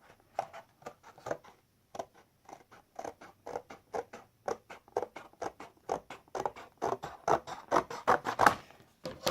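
Scissors cutting a paper gift box, a quick run of crisp snipping and crunching cuts close up, speeding up toward the end, with no voices.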